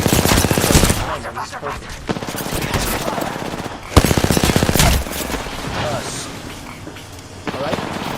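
Rapid, dense automatic gunfire from a video game fires almost without a break, loud and close, while a person talks over it.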